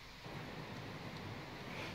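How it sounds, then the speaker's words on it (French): Faint, steady hiss of rainfall in Minecraft with a shader pack, a soft, even wash of noise with no distinct thunderclap and no talk. "Attention, vous allez voir la pluie magnifique."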